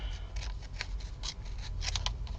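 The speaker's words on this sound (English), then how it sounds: "So let me just jab my scissors in there." Scissors snipping out a small picture of an old cowboy for a ring-pull charm, a run of close, crisp cuts in quick irregular succession with no one talking.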